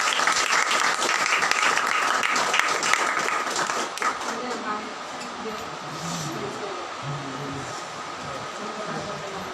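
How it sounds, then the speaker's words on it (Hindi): Church congregation applauding God during a Sunday service, loud dense clapping at first that fades into lighter scattered claps and murmuring. "आइए जोरदार परमेश्वर के लिए तालियां।"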